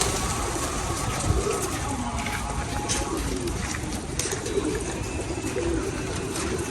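Pigeons feeding outdoors on a city street in Nagoya, Japan, cooing steadily amid a dense, continuous wash of ambient crowd and traffic noise, with no clear speech.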